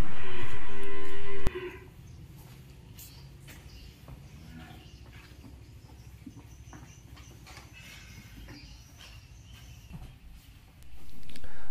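At a cattle market in Tra Vinh, Vietnam, where an Angus cow and calf are up for sale, a loud, close moo opens, then a low, steady barn din of shuffling and distant lowing follows before another bellow swells at the end.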